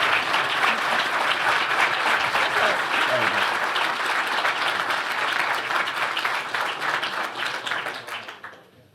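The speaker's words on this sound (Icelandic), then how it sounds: "við skulum gefa þeim gott klapp" Loud, sustained applause from an audience at an Icelandic IT awards ceremony as the award goes to the winners, dense clapping throughout before tapering off near the end.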